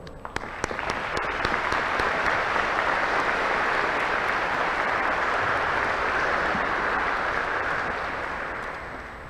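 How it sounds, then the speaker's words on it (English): An audience at a Class of 2022 graduation ceremony breaks into loud, sustained applause, starting with a few scattered claps and swelling into a dense roar that holds steady before slowly tapering at the end. "graduates, please assist me in a round of applause for your network of support"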